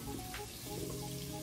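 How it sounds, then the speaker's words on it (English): Garlic sizzles in melting butter inside an Instant Pot, a soft, steady frying crackle that stays faint and continuous with no talking. "The butter is almost melted and the garlic is just about perfect at this stage"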